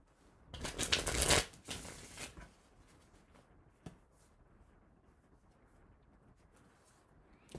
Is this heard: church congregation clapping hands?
no